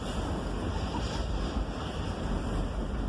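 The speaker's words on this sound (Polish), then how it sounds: "To jest fajne, słychać ten wiatr." Wind blowing on a mountain near Szczyrk rushes steadily and buffets the microphone in a continuous broadband roar, loud and close, with no voices heard.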